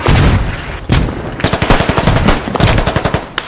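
Mortar rounds pound down in rapid succession in a military video game, a dense barrage of sharp, booming impacts and crackling blasts that rolls on continuously without pause.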